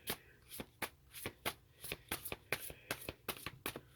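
Tarot cards are shuffled by hand in a steady run of about a dozen crisp, riffling bursts, close and quiet, with no talking.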